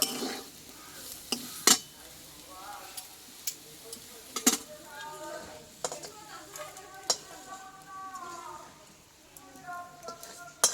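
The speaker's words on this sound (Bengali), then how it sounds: "কাঁঠাল দানাগুলো ভেজে কতটা সুন্দর লাগছে দেখো" Jackfruit seeds fry with five-spice in a pan, a soft sizzle punctuated by sharp clicks and scrapes of a utensil stirring, while someone talks over the cooking.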